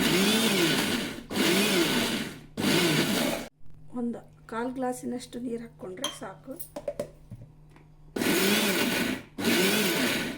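A mixer grinder coarsely grinds fenugreek (methi) chutney in loud, whirring pulses of a few seconds each. The grinding stops while someone speaks, then starts up again.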